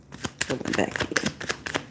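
Close, rapid tarot card shuffling with sharp flicks and riffles, while a person talks over it.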